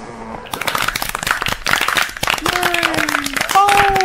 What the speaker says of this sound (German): Ein Applaus bitte für den Baum.